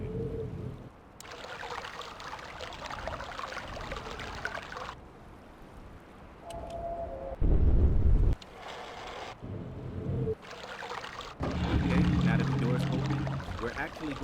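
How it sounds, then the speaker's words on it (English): Falling water in the video game The Selenetic Age rushes and pours in bursts that start and stop repeatedly, with deep splashing pulses mixed in, loud and close. "I'm gonna input the falling water"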